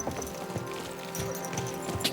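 Rhythmic clip-clop of horse hooves trotting at a steady pace in the video game Kingdom Come: Deliverance, close and moderately loud over a constant low background drone.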